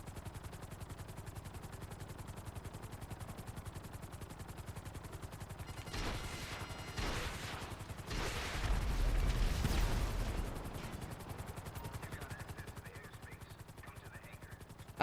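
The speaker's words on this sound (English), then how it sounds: "I like how an explosion just happened outside, just right outside the military base" A distant explosion booms outside a military base in GTA 5, set among bursts of gunfire and steady background game noise, the blast swelling into a longer low rumble mid-clip.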